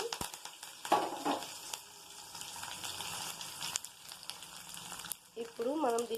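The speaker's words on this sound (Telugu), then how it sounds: "ఇప్పుడు పోపు పెట్టుకుందాం ఫ్రెండ్స్ ఆయిల్ హీట్ ఎక్కువ" Cumin, mustard seeds, dried red chillies, garlic, chana dal and urad dal sizzle and crackle in very hot oil for a gongura chutney tempering, a steady frying hiss with occasional pops, and a voice speaks briefly near the end.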